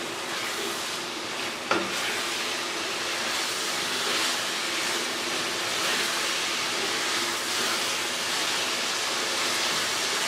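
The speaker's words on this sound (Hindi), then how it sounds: "تقریباً 3 سے 4 منٹ تک ہم مسالوں کے ساتھ کلیجی کو بھونیں گے" Beef liver (kaleji) frying with spices in a pan on raised heat, giving a steady, broadband sizzle that runs evenly throughout with one brief clink partway in.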